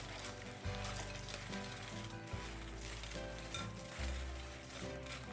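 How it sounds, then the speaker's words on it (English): Fries with parsley and minced garlic are tossed in a hot pan, giving steady loud sizzling and frying with a few scraping, shuffling bumps as the pan is moved. "add them, and toss them."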